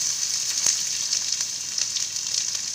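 Onions go into a pan with chopped garlic already cooking, producing a steady, bright frying sizzle that stays close and even, with a faint tick near the start.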